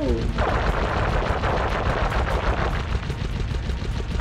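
Loud, sustained machine-gun fire in the PS3 game Sly Raccoon, a rapid unbroken stream of close shots rattling throughout, with a faint voice briefly underneath.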